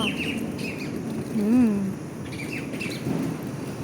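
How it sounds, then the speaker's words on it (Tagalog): Birds sing in a park with a few short, high chirps over steady outdoor background noise. One lower, wavering whistled call stands out in the middle. "Umaawit ang mga bird dito."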